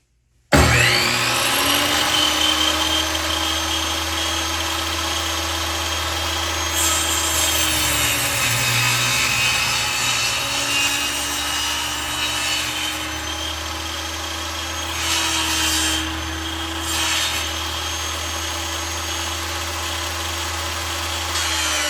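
A power saw cuts through wood for a custom bed frame, loud and continuous at close range, with slight shifts in pitch as the blade works along the board.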